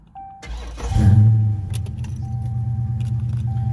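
A Dodge Charger with a new tune cranks and starts after a brief jangle of keys, then settles into a loud, steady, throbbing idle close by.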